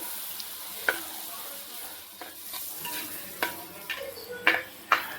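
Finely chopped onions, three of them, frying with garlic in a pan for a spicy garlic egg masala, a steady soft sizzle broken by several sharp scrapes and taps of a stirring spoon.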